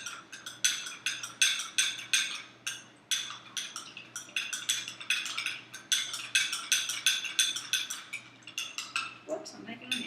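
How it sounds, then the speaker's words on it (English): A spoon stirs a watery drink mixture in a glass or cup, tapping and clinking against the sides in quick, rhythmic bursts that continue almost without pause, close and fairly loud. "And I stir it up really good."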